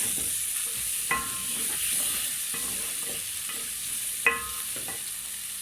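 Green capsicum and garlic sizzle in a hot pan for a sundried beef stew, a steady close frying hiss broken by a couple of sharp scrapes and clinks of stirring.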